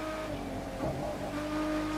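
Engine of a Lotus Evora GTE downshifting in the racing game The Crew 2, a steady mid-level drone with a brief rise and dip in pitch as the gear drops.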